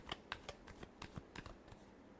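A deck of tarot cards is shuffled close up, a quick run of about a dozen crisp riffling flicks over two seconds, faint and alone.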